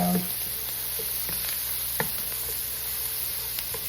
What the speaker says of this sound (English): let these sear, and once these brown, the onion get golden